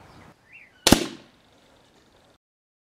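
A single sharp report from an Original Model 50 air rifle firing a .22 pellet at a target, one close crack with a short decay and quiet surroundings before and after.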